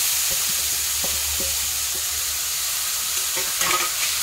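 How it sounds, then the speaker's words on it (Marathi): Grated carrot frying and being stirred in ghee for carrot kheer, a steady close sizzle with scraping stir strokes throughout and no talk. "त्याच तुपामध्ये आपल्याला आता हे किसलेलं गाजर हे टाकायचं आहे।"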